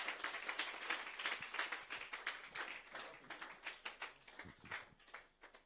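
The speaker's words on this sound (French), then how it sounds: "On donne même l'acclamation au Seigneur" A church congregation applauds in acclamation to the Lord, with rapid, overlapping hand claps forming a busy, fluttering patter that swells and fades, heard faintly and somewhat distant.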